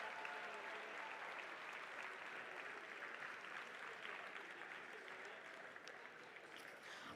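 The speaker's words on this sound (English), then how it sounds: "Give them another round of applause for all their work this weekend." A crowd at a weekend competition event gives a sustained round of applause for the referees, a dense, even roar of clapping that stays faint and distant throughout.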